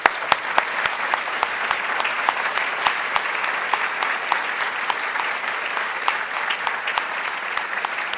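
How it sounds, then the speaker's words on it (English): Sustained applause from a large conference audience following a talk, steady dense clapping with sharp individual claps standing out, continuing at an even loudness throughout. "all of us deserve a big round of applause"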